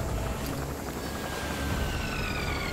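A helicopter in the video game Metal Gear Solid V, a steady droning rotor and engine roar heard close and continuous without pause, with no talk over it.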